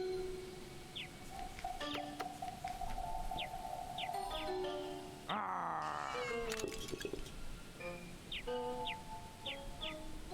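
A cat meows repeatedly in the adventure game Creature Comforts (The Little Acre), short tonal cries mixed with chimes and game sound effects, with a longer wailing call midway, fairly close and clear.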